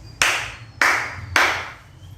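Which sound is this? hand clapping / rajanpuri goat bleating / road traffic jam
hand clapping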